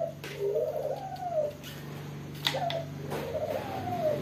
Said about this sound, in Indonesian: Apalagi kalau di atas itu ada burung puter saya, jantan.